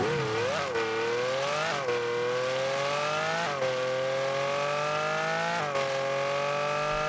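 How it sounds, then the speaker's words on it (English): A Lamborghini Countach LPI 800-4 engine revs repeatedly in Rocket League, the pitch climbing and dropping with each gear change, loud and continuous with no talking. "let me show you the engine audio of the Lamborghini Countach"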